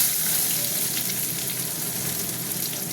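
Onions sizzling in hot oil with whole cumin seeds in a pan, cooked for a picnic meal; a steady, close, even frying hiss with no pauses and no voices.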